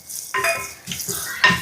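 Fried green chillies are stirred in a pan at home in a Kerala kitchen, giving a few short scraping clatters of a spoon against metal over a faint sizzle, close and alone.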